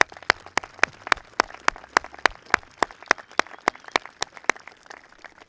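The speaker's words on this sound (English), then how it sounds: "Please, one more round of applause." Graduation ceremony applause from a small audience: sparse, sharp, evenly spaced claps ring out one after another, fairly close and with no voices over them.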